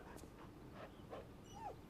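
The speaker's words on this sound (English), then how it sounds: "Dog, get back here!" Dog in a zombie drama episode whimpering in a few faint, high, short whines spread across a couple of seconds, set against a low background hum.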